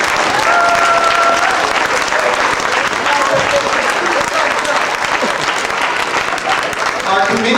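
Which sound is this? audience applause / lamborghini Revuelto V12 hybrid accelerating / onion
audience applause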